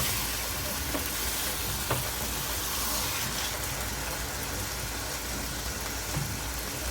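Steak sizzles and fries on a grill after being flipped, a steady loud hiss with faint crackles running throughout, with no talking.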